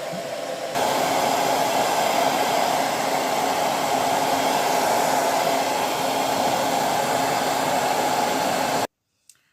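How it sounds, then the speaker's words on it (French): A hair dryer drying white hair blows with a steady, loud whooshing roar that runs continuously, then cuts off abruptly near the end. "Il fait énormément de bruit, hein, malgré que ce soit un bon sèche-cheveux."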